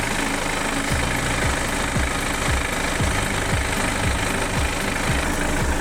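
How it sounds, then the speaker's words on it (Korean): Diesel engine of a BMW 520d F10 idling after being restarted, a steady close rattling clatter with regular rhythmic knocks throughout. "오일 주입할 때는 시동을 켜야 되니까 다시 이제 시동을 켤게요"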